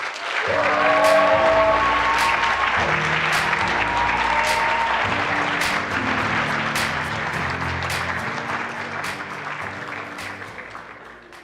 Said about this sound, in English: please can we have the biggest round of applause for the Digital and Finance track winners, Oliver Colborne and Patrick McGuckian of Polarize